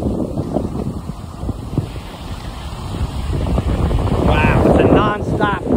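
A strong, constant breeze buffets the microphone at the Jersey shore in Seaside Heights, with small waves washing behind it, and a voice speaks briefly near the end.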